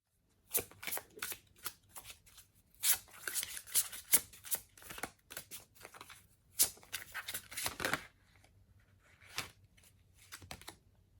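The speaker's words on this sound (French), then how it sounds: "je vais te tirer une ou deux cartes conseils." Tarot advice cards being shuffled and drawn, rapid crisp riffling bursts of card flicks in irregular clusters, close and fairly quiet, then a few isolated softer card slides.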